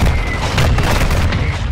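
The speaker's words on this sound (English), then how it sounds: "Nice mortar." A mortar strike detonating in a multiplayer shooter game, a heavy sustained booming roar filling the short moment, loud and close with rumbling low end and no clear gaps.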